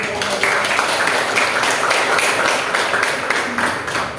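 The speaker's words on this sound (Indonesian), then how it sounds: "beri tepuk tangan dulu" An audience at a university teaching presentation applauds with dense, steady clapping that continues evenly throughout without talk.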